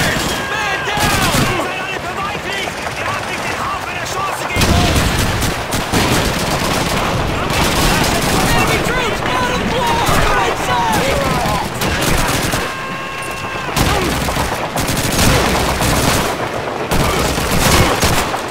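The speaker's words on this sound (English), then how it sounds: "Enemy shooting back!" Dense gunfire in the Call of Duty 2 video game: rapid rifle and machine-gun bursts, loud and nearly continuous, with shouting voices over the battle.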